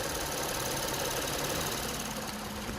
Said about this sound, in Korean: 우리 고객님들이 궁금해하시는 엔진 소리도 한번 들려드리도록 할게요.